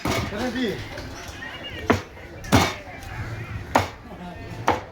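Yellow trevally being cut up at a seafood shop in Thoothukudi, heard as four sharp chopping thwacks spaced about a second apart, set against a steady shop background with some voices.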